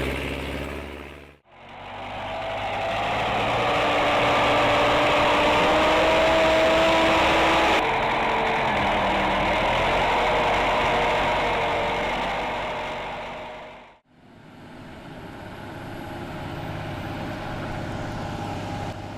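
An old NTTUltra D4K tractor with a 90-horsepower six-cylinder diesel engine runs loudly and steadily, its drone swelling and fading in long sustained passes with a brief dip between them.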